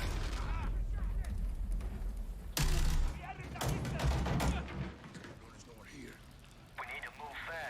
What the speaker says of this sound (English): it seems like it feels nice shooting the gun